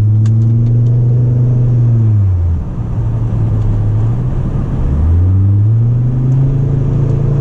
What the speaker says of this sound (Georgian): მანქანის ყიდვა შეიძლება მარტო ამ ძრავის გამო და ამ ხმის გამო